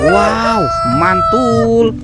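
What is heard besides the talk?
rooster crowing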